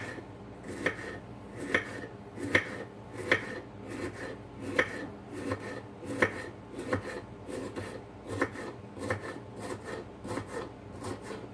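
A knife thinly slices bitter melon on a cutting board, making steady, evenly spaced crisp chops close by, about one or two per second over a faint background, with no talk.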